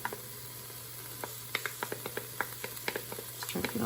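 A clove of garlic dropped onto softened vegetables in a chicken noodle soup pot gives a soft, steady sizzle, broken by light scraping taps from stirring.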